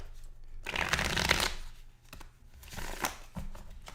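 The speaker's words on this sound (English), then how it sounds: "which is going to delay the game as I shuffle the cards" Riffle shuffling of a playing-card deck between plays of a tabletop football game, two bursts of crisp riffling close by with a short pause between them, no talk.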